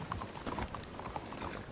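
Horse hooves clip-clop in a quick, steady rhythm in Red Dead Redemption 2, moderately loud and close, with no speech over them.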